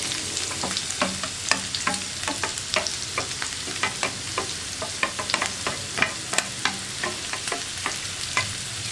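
Chopped ginger, green chili and onion fry in coconut oil in a pan, a steady close sizzle broken by frequent sharp crackles and stirring scrapes, no talking.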